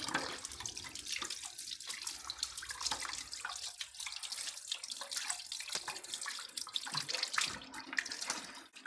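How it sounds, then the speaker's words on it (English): Water from a kitchen sink tap runs steadily while hands are washed under it, with irregular splashing and dripping throughout, close and fairly soft. "go over to my kitchen sink and wash my yellow fingers, my yellow hands"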